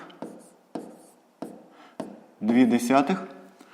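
A pen scratches out the answer to a fifth-grade math division problem in four short, evenly spaced strokes, close and dry, before a voice starts talking.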